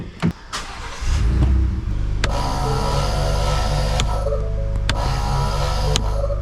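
An ARB dual air compressor, loosely wired for a test in the back of a Ford Ranger ute, kicks on with a few clicks and then hums and drones steadily, loud and close, with occasional sharp ticks.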